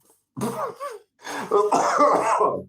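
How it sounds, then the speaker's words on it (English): A man with a tickly cough of several weeks coughs and clears his throat, a short harsh burst followed after a pause by a longer rasping run of coughs, close up. "I've had this damn tickly cough for about 3 weeks."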